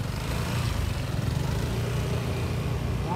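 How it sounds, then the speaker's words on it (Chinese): Motorcycles ridden by local residents along the Caifeng promenade beside Qijin beach in Kaohsiung, a steady low engine drone that stays close and continuous throughout, with no talk. "但仍看到当地民众骑着摩托车进出采风大道。"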